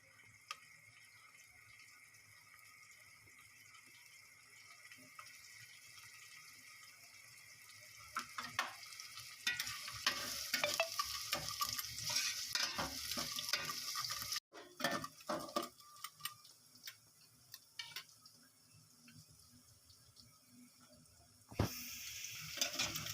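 Onions sizzle and crackle steadily in a hot pan, with scraping and clattering stirring noises that grow busier partway through.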